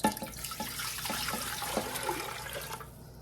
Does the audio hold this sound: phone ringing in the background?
no